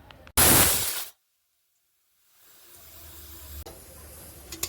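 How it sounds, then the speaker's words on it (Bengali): A kitchen gas stove is switched on beside a pressure cooker and a wok, giving a loud, short burst of hissing gas that cuts off abruptly, followed by silence and then a low burner roar building steadily. "গ্যাসটা অন করব।"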